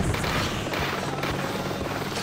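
Steady helicopter rotor and engine drone from the Jet Set Radio video game, a dense continuous whirring wash that holds at an even loudness throughout with no talking over it.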